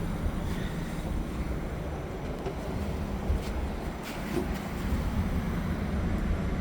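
A Mitsubishi Heavy air conditioner outdoor unit runs outdoors after installation, giving a constant low broadband rumble and whoosh at an even level throughout, with light wind noise on the microphone and no speech.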